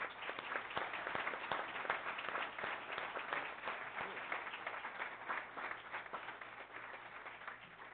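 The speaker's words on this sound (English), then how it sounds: "So let's give them a round of applause right now." Steady applause for honorees at a Turlock city council meeting, with dense, even clapping from a seated audience that holds for several seconds at moderate loudness.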